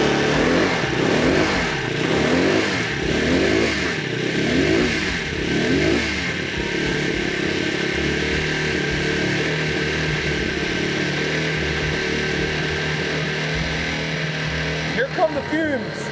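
A Yamaha TT250 motorcycle engine revs up and down repeatedly close by, pitch rising and falling in waves before settling into a rough, steady idle.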